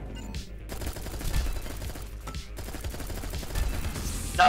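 A revolver fires in the Echo Point Nova video game, a run of rapid, loud, punchy shots over a constant rumbling game background, broken by a couple of short gaps.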